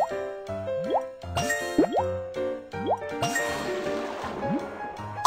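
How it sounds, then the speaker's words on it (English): Cartoonish water sounds from the Baby Panda fire truck kids' game as a tank fills: a run of bubbly plops and rising gurgling bloops in an uneven rhythm, layered with chiming game tones. "Water is filled up."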